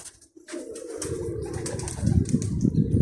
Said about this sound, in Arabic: هذا الطير شو تسموه؟